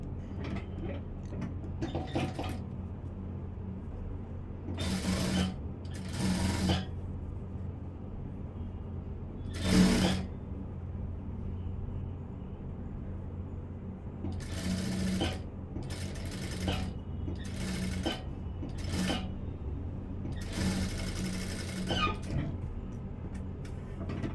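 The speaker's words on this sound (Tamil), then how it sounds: "இப்போது நான் தைக்கிறேன் அந்த எங்கே தையல் போட்டிருக்கோமோ அந்த தையலுக்கு மேலேயே நான் தைக்க போகிறேன்" A sewing machine stitches the front panel of a blouse in several short bursts of rapid mechanical whirring, separated by quieter pauses with faint handling clicks and a low background hum, close by and without talk.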